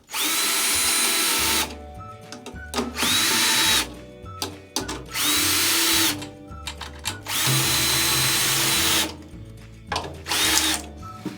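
A cordless power drill drives drum tension rods tight on a rock drum kit, several loud whirring bursts of a second or two each, separated by brief pauses and ratcheting clicks.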